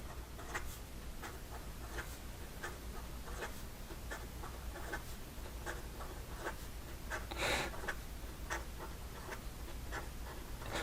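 A Pilot Vanishing Point fountain pen with a slightly scratchy nib writes quickly on paper, close up, giving a fast run of soft scratchy strokes and taps with one louder scrape partway through.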